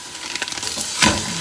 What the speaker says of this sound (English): So next, guys, I will put this ground beef natin dito.